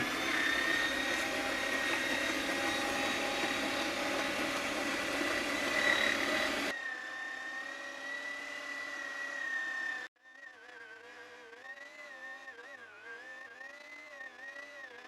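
A Drevos International Classic meat grinder runs steadily, mincing cold cubed pork and beef for smoked sausage into a coarse grind; a loud continuous motor whine drops in level partway through and settles into a quieter, wavering hum near the end.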